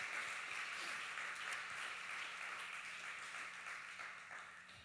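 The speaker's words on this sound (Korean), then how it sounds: "우리 하나님께 영광의 박수로 함께 올려드리겠습니다" A church congregation at a Sunday evening service applauds in a steady, dense wash of clapping that holds at a moderate level and slowly fades.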